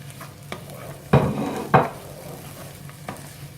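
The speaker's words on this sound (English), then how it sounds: "add the onion and the pepper in and let them fry off for a few minutes" Onion and pepper fry in a pan under a soft, constant sizzle, broken by two sharp stirring scrapes near the middle and a lighter one near the end.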